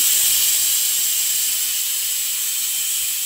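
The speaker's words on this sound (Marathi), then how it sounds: "आपल्या कुकरच्या शिट्टी सुद्धा सुरू आहेत." Pressure cooker on a gas stove releasing steam, a loud continuous high-pitched hiss that holds steady and fades only slightly, with no talk over it.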